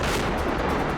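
Gunfire in the war in Ukraine makes a loud, dense, continuous burst that fills a brief moment with no voices.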